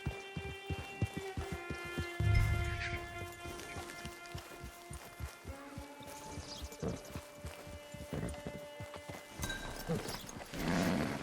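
Horse hooves clip-clop in a steady walking rhythm on the ground in the Red Dead Redemption 2 video game, fairly faint, with a brief snort or whinny near the start amid ambient game sound.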